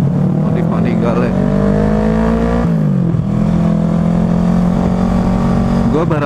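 A modified Ducati Panigale motorcycle engine revs loudly and close by, a strong droning note that rises, dips and climbs again, with people chatting faintly in the background.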